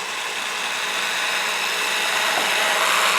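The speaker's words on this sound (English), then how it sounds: "slowly begin to drill down and keep that bubble right in the middle of that circle as you go" A power drill bores steadily into a wooden duck decoy, a close, continuous high whine of bit through wood that grows slightly louder toward the end, with no talking.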